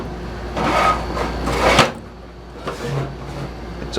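A drawer slides open and shut twice during a search for a tool while changing the blades on a Craftsman V20 cordless pruner, each pass a close, scraping rumble ending in a knock, with a quieter thud after a pause.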